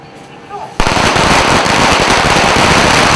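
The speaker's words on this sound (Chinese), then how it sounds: "在门口放起鞭炮庆祝" A string of firecrackers bursts into rapid, dense crackling outside a lottery shop in Dajia celebrating a jackpot win, loud and continuous after a brief quiet start.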